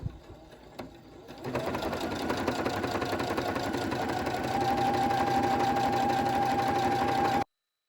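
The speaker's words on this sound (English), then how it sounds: "So we can just go ahead and sew it. Okay. And we'll sew all the way down." Sewing machine stitching a seam straight down, a steady fast mechanical whir that starts after a brief quiet moment with small clicks and runs continuously at close range until cutting off abruptly.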